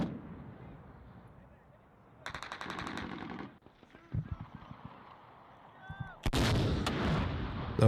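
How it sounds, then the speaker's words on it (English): Rocket firing or exploding during Marine training, heard as sharp booms and crackling gunfire bursts, with a loud rushing blast near the end and people talking in the background. "That was definitely a rocket."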